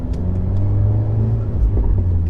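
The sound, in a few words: Fiat 124 Spider car driving and accelerating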